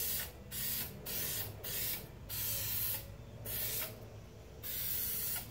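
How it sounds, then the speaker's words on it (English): Spray adhesive hissing from an aerosol can onto fabric and foam for a Rolls Royce Silver Cloud interior: about six separate short bursts of close hiss, each under a second, with quiet gaps between them. "The edge wraps around, so I'm going to turn it over and spray it."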